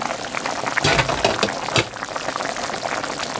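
Thick cream stew bubbles and pops steadily in a pot close by, with a brief burst of louder bubbling partway through.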